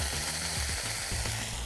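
Beef sizzles in olive oil in a hot pan, a steady broadband frying hiss with faint crackles running throughout at close range, no voices present.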